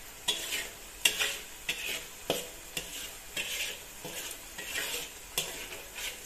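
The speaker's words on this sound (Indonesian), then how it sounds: "Goseng terus sampai matang," Seasoning paste for Balinese milkfish stir-fried in a pan: a steady sizzle broken by regular sharp scrapes and knocks of the spatula, close and fairly quiet, with no talking.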